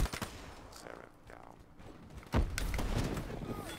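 Shotgun blasts and other gunfire in the video game Call of Duty 3, with a burst of shots early on and then a loud heavy blast that leaves a dense roar of fire and action.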